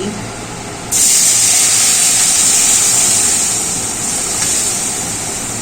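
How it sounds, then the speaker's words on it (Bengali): Lentils tipped into a pan of lightly fried onions burst into a loud, steady sizzle, a bright hiss that jumps in abruptly after a quiet start and holds strong throughout. "এই পেঁয়াজগুলোকে হালকা ভেজে নিয়েছি এবার ডালটা দিয়ে দিচ্ছি"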